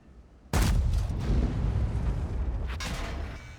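A tank cannon fires in World of Tanks, a sudden loud boom with a rolling, sustained rumble that decays over a few seconds, and a second sharp crack near the end.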